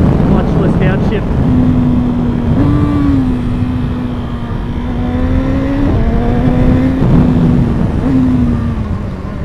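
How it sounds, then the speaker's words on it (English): A 2015 BMW S1000RR motorcycle engine drones loudly on a bumpy road during a clutchless downshift, its steady tone stepping up in pitch with each blip under constant wind noise. "Clutchless downshift."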